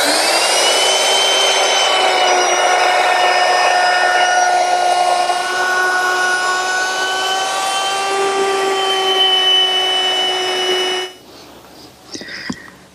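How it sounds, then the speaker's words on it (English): A power tool, likely a router, rounds the top and bottom edges of a desk top to a half-inch radius, a loud steady whine with shifting pitch that runs for about eleven seconds and then cuts off. "I want to round the edges, top and bottom, with a 1/2-inch radius"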